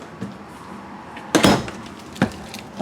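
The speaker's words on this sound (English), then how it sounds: "Let me shut this door here." Door being shut inside a 2021 Mesa Ridge 332RLS travel trailer, a loud close thump with a rattling latch, followed by a smaller knock and faint handling noises around it.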